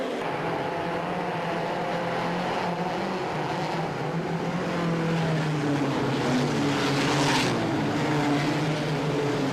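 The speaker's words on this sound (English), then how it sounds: "Kuhn's in the 11 hugs the inside guardrail completely sideways, while Darland in the 71 Toyota works the top groove" USAC midget race cars roar around a dirt track, a sustained loud engine drone with shifting pitch as the cars run sideways through the turns and along the top groove.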